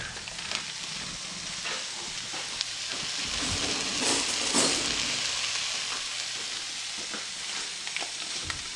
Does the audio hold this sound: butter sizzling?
yes